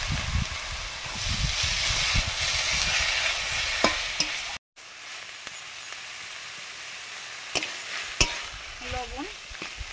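Chopped banana flower hitting a hot pan sends up a loud, steady hiss that cuts off, then continues as a softer sizzle broken by a few sharp clicks of a spatula stirring.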